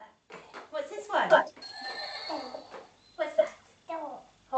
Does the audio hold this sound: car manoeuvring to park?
no